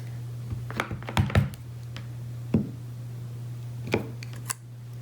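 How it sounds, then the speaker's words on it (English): A rubber stamp thumps down on a scrap of paper several times in quick, uneven taps, sharp and close, with a steady low hum underneath and no talking. "before I stamp it on my little tag, I'm going to stamp it on scrap piece of paper to condition it"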